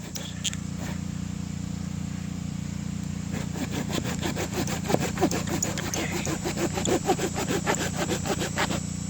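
A hand saw bites into solid wood that holds fatwood, giving a fast, regular rasping stroke rhythm that starts a few seconds in and keeps going over a low steady engine-like drone.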